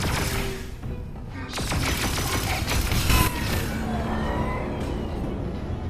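A spaceship in a Star Wars VR game creaks and rattles as it dips into Batuu's atmosphere, giving a dense metallic groaning rumble with scattered clicks and sharp bursts that swell around the middle.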